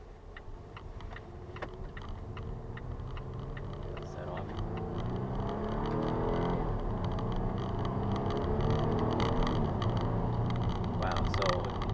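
A car engine accelerating hard in third gear past 3,000 RPM, heard from inside the cabin as a droning hum that grows steadily louder and rises in pitch.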